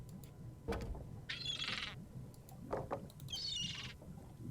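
Seagull cries in the Monkey Island video game, two raspy, bright squawking calls, each about a second long, over a low ambient bed, with softer knocks between them.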